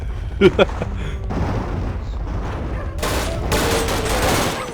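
Dynamite blasts and gunfire in the Sven Coop game: a couple of sharp bangs up front, then a sustained rumbling barrage of shots and explosions that swells louder in the second half, with a voice briefly present early on.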